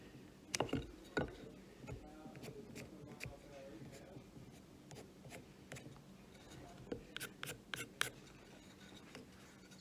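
Pencil scratching and marking across wooden rails while laying out a tenon on the frame of a camp stool, a series of short close strokes with light rubbing and shuffling of the timber between them.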